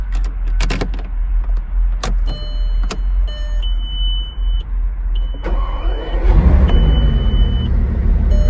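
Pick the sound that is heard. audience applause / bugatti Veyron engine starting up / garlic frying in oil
bugatti Veyron engine starting up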